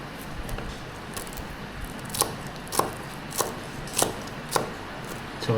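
A knife chops food into rounds while preparing a simple homemade Thai-style lunch, with sharp, evenly spaced cuts about every half second over a soft background hum.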